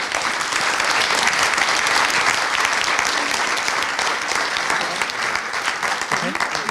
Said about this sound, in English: I'd like to just ask you to give a round of applause for the panel.